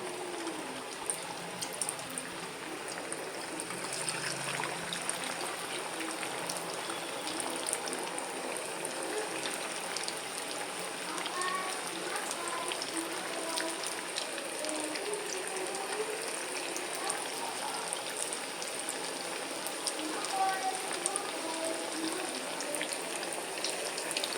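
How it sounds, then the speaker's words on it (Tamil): Potato chips fry in hot oil with a steady, dense bubbling hiss that holds evenly throughout, close and fairly loud with no voice over it. "இப்போ நம்ம இந்த எண்ணெயில் போட்டு பொரிச்செடுக்கலாம்"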